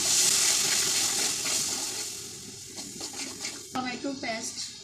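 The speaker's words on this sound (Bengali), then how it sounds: "মশলাগুলো ভাজা ভাজা হয়ে গিয়েছে" Spices (chili, cumin, coriander and turmeric) fry in a pan with softened onion for a tengra fish curry. A bright, steady sizzle fades and gives way to scattered stirring clicks near the end.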